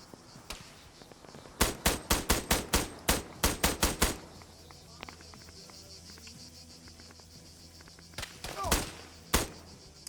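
Gunfire in an Arma 3 firefight: rapid bursts of sharp rifle shots in a quick run, then a quieter stretch of distant ambience, followed by a few more close, loud shots.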